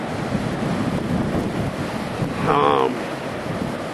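Ocean waves wash up on the beach beside Crystal Pier in San Diego as a continuous roaring surf, mixed with heavy wind buffeting the microphone and a brief voice near the end.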